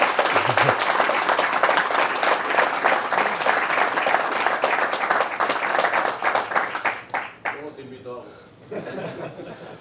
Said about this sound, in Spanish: me gustaría un fuerte aplauso para Igor